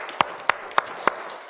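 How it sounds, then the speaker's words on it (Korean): Four crisp, evenly spaced claps from a church congregation at a Sunday afternoon praise service, sparse and moderately faint in a quiet room. "박수 한번 쳐주세요."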